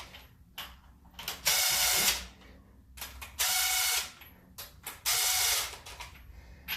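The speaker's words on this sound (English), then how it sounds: "So this impact has 3 settings, of course. It's set to 1." An impact driver on its lowest setting runs down crankshaft bearing bolts on an Alfa Romeo V6 engine, three loud whirring bursts of about a second each with ratcheting clicks between them, close by.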